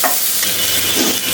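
Fried potatoes tipped into a hot cooking pan for a village-style pumpkin dish, giving a steady close sizzle with stirring and scraping throughout, no voices.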